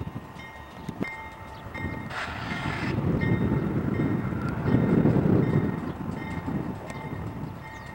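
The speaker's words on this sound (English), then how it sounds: "we got a westbound stack train coming" Norfolk Southern westbound stack train passing, a steady rolling rumble with rail clicks that builds and swells as the cars go by, heard from trackside amid wind.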